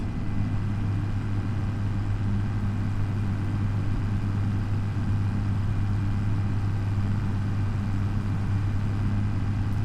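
A tractor in a farming video game drives with a steady, low droning engine rumble that holds constant throughout, with no voices over it.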